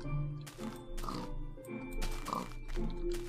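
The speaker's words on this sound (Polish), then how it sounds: "świnia." A pig oinks in a Minecraft-style crafting game, with several grunting calls repeating over steady in-game background sound and music, fairly close and clear.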